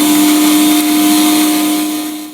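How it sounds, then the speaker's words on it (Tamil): A mixer grinder whirs loudly and steadily while blending garlic for homemade mayonnaise, a sustained mechanical hum with a strong steady tone that winds down at the end. "பூண்டு சேர்த்துட்டு திரும்பவும் நல்லா அரைச்சிக்கோங்க"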